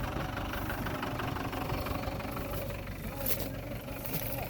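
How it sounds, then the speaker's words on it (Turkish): A New Holland TL100A tractor's heavy diesel engine rumbles steadily nearby in four-wheel drive while pulling a marble cart, with a constant low, slightly knocking drone. "Traktör dört çekerine çekecek arkadaşlar."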